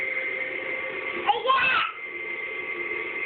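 A child runs a vacuum cleaner in her room: a steady whining motor drone holds through the whole stretch, briefly swelling and shifting in pitch partway through, with a voice over it.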